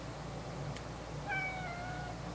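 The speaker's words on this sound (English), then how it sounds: "So I have a kitty cat walking across the computer." Pet cat giving a single soft meow near the end, faint and close against quiet room noise.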